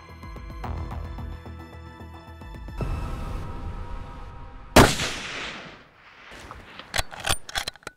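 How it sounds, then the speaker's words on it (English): A single rifle shot fired at a tahr on a New Zealand mountain hunt: one loud, sharp crack followed by a long, rolling echo, with background music running underneath. "We need to shoot him right there. Just take him."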